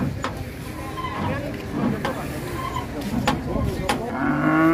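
An enraged cow bellows loudly amid noisy outdoor commotion at a market, with people shouting and talking over the animal's agitated calls.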